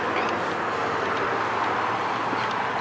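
Steady, continuous road noise of passing vehicles, a broad rushing hum with no distinct pauses, fairly close.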